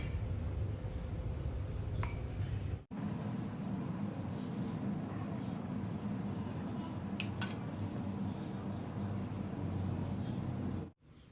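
Fried cashews and ghee being stirred into green gram flour for laddu, heard as a steady scraping, clinking rustle of a spoon against a metal bowl that carries on without pause after a brief break.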